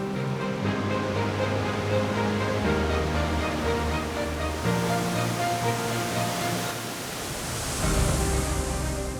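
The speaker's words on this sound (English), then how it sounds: "This isn't just one waterfall, it's hundreds. Iguazu is 3 times wider than Niagara" Iguazu Falls on the Argentina–Brazil border roars as a broad, continuous wash of falling water, loud and steady, with a faint musical tone layered underneath.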